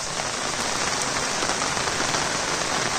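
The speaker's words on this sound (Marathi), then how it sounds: "रात्रभर पाऊस एकदम तुफानी पडतोय, थांबलाच नाही" Heavy overnight rain pouring down steadily, a dense, loud, unbroken hiss of drops hitting surfaces close by, with no voices.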